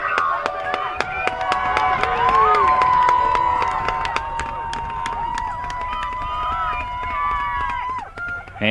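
A crowd cheering and roaring at a 2020 high school football game at Wildcat Stadium, Jefferson versus Waconia: a loud, sustained wash of crowd noise with shouting voices mixed through it.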